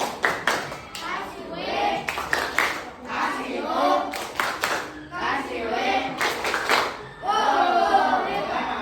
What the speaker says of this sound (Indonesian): beri tepuk apresiasi